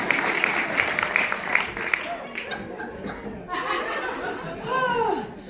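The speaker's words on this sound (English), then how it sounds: "Give yourselves a round of applause." A comedy show audience claps and laughs together, a dense burst of applause mixed with chuckles and crowd chatter while a voice talks over it.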